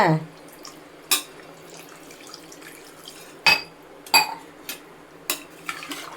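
Intermittent metallic scrapes and clinks of a spoon stirring country chicken curry in a pot, several separate strokes with quiet gaps between them.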